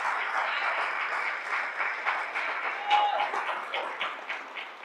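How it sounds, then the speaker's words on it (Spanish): Moderate, steady applause for the Lord rises from a church audience, continuous clapping holding at an even level for several seconds with faint voices underneath. "dile un aplauso al Señor ahora"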